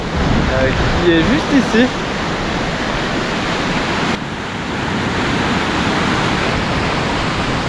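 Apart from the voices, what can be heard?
Arve river rushing through the Chamonix valley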